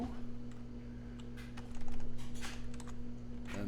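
Someone typing code on a computer keyboard, quick irregular key clicks close by, in short bursts with brief pauses, over a faint steady hum.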